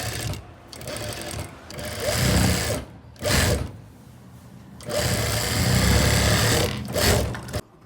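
A sewing machine stitches a blouse in several loud, whirring bursts separated by short pauses, recorded up close.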